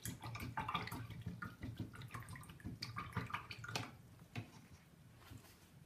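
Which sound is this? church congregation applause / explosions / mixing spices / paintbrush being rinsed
paintbrush being rinsed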